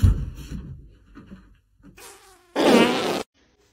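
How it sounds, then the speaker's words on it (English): A short, loud buzzing fart near the end, following a few quiet, scattered noises and a brief burst of hiss. "Did you just fart?"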